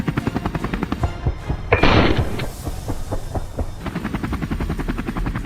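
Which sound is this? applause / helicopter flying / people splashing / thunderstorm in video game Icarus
helicopter flying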